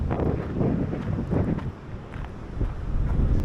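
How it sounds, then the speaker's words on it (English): Strong wind in Tenerife buffets the microphone in loud, rumbling gusts that rise and fall continuously, with no voices. "It's so windy."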